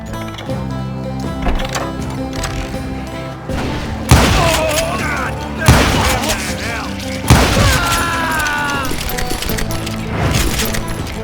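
Gunfire from hired guns in the Western shooter Call of Juarez: Gunslinger booms out in a few heavy shots amid game music and effects, with someone talking over much of it.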